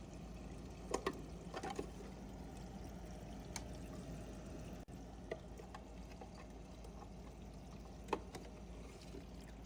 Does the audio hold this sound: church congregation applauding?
no